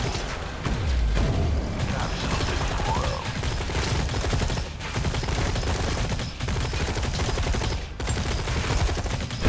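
Barrels blown up by infantry fire in the Tempest Rising real-time strategy game, heard as dense continuous gunfire and explosive bursts, loud and sustained throughout with a few brief dips.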